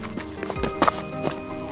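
A horse's hooves clip-clop in several close, distinct footfalls, with a faint voice in the background.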